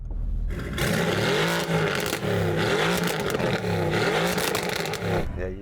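A sports car engine revs hard and continuously, its pitch rising and falling in repeated surges, loud and close with no voices.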